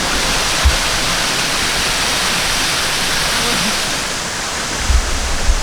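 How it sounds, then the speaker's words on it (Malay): Broad steady roar of falling water at Air Terjun Harimau Berjemur, a striped-rock waterfall in Malaysia, heard close and continuous with a few low thumps near the start and end. "dia orang bagi nama Air Terjun Harimau Berjemur sebab belang ni"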